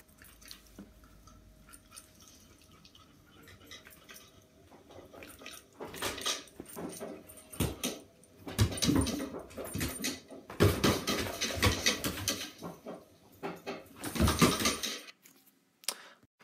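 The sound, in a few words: pet dog reacting to a waved cuddly toy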